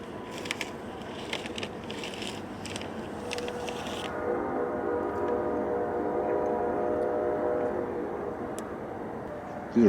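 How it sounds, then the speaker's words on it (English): A train passing near a campsite, a low rumbling drone that swells and holds steady over several seconds, following some crinkly handling noise at the start. "Can you hear the train?"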